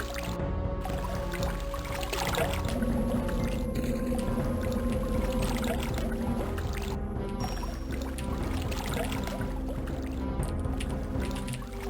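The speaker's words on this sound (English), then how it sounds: "Sorry, that water's really loud." Water rushes loudly and steadily through the Blood: Cryptic Passage PC game, a constant splashing flow that fills the whole span without pause, with faint game tones layered on top.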